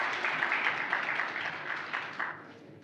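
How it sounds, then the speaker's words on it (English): An audience at the EAST Festival 2022 panel discussion applauds, producing a steady, dense patter of clapping that carries on for a few seconds and then tapers off, with no talking over it. "Please, let's give a round of applause for Joseph Joe Chigozi."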